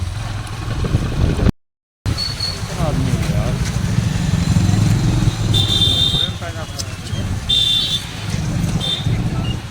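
Motorcycle ride on a sunny but cold day around Jaunpur, engine and road rumble droning steadily and close throughout, with wind noise, passing traffic and horn-like tones, while people talk over it.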